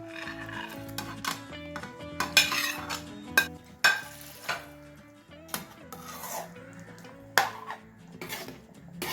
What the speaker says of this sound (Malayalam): നന്നായിട്ടൊന്ന് മിക്സ് ചെയ്ത് കൊടുക്കണം കേട്ടോ